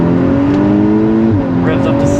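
A Stage 2+ tuned 367hp VW Golf R MK6 engine revs loudly close by, its tone rising and falling, with people talking over it.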